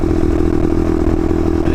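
A motorcycle pulls away and accelerates, its engine droning loud and steady close by with a rough, clattering mechanical buzz throughout.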